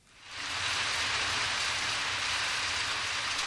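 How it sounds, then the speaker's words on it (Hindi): Steady rain falls, a dense, even hiss that rises quickly and then holds at a constant level, fairly soft and continuous with no voices. "आओ देखो, बारिश हो रही है।"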